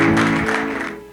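Guests applaud at a wedding ceremony in a dense, sustained burst that slowly fades. A held musical tone runs underneath.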